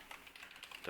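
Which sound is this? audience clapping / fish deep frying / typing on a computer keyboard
typing on a computer keyboard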